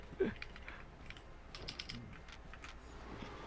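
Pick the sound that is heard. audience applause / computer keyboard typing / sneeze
computer keyboard typing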